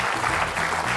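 Studio audience applause on a Georgian Rustavi 2 TV comedy show, a dense, steady burst of clapping filling the whole short moment, loud and even.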